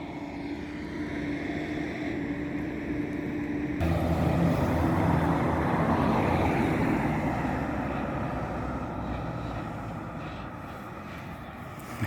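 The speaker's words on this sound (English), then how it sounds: "Comes that tractor again" Tractors pass along a country road in the Northamptonshire hills, a broad low rumble that swells suddenly and stays loud for several seconds, then slowly fades as they move away.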